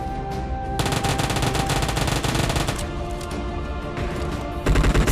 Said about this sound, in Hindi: हम स्विच करके उसको उजी से आसानी से गिरा देते हैं